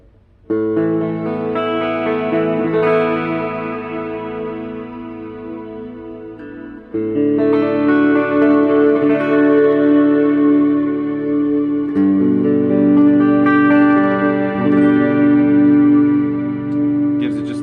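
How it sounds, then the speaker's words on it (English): Sustained electric guitar chords ring out in three long strums through a Strymon Cloudburst reverb pedal, washed in lush reverb with a shimmering ensemble layer that makes them sound almost synth-like. "we're going to go from reverb to adding a little bit of ensemble here."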